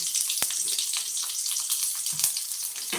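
Close, continuous hissing and crackling of onions frying in oil, with occasional sharper pops and a stirring scrape.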